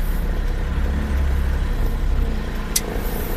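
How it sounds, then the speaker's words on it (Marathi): A truck rumbles steadily as it is driven out of the company premises, with a low engine drone and one brief hiss of air brakes near the end. "आधी गाडी बाहेर काढतो आणि मग तुमच्याशी बोलतो"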